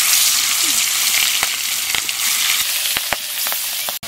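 Stingray fish frying in hot mustard oil with salt and turmeric in a heated wok in a village kitchen, a loud steady sizzle with occasional sharp pops and crackles.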